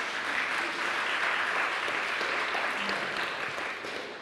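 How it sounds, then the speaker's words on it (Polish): Applause from an audience at a literary festival event, steady and dense throughout, fairly near, with no speech over it. "Jeszcze raz wielkie brawa."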